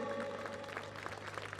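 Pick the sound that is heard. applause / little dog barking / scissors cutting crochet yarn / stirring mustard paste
applause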